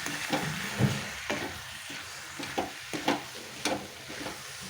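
Cauliflower curry stir-fried in a pan with masala: repeated scraping strokes of a spatula against the pan in a loose rhythm over a steady, close sizzle.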